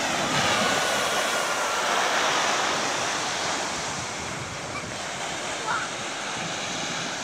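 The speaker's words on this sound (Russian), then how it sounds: "Прилив. Очень мощное зрелище. Вот, вода все ближе и ближе." Incoming evening tide at an ocean beach in Ocean City, a continuous loud wash of surf with wind buffeting the microphone, steady throughout with slight swells.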